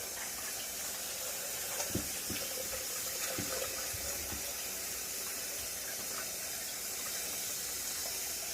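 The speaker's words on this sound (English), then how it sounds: "So we're going to wash it out right through the cavity." Water runs steadily from a faucet, rinsing through the cavity of a raw turkey being cleaned before grilling. The splashing and hissing flow stays fairly even and close, with a few small thumps and no talking.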